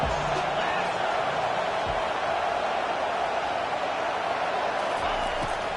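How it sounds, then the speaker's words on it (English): Steady roar of a stadium crowd in a Madden football video game, swelling during a third-down defensive stand; the dense wash of noise runs continuously and loud throughout, with faint talk layered beneath. "Decibels rising as the crowd gets behind this defense on 3rd down."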